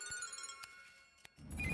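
A telephone rings with a repeating electronic tone, quiet and close, before a louder burst of noise cuts in at the end.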